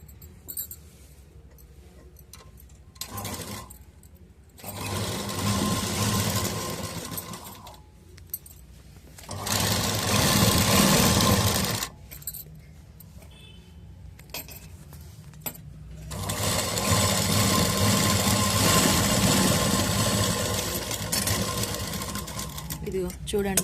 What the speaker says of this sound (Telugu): ఇప్పుడు మళ్ళీ ఇటు పక్కన దీనిపైన స్టిచ్ చేసుకుందాం మనం.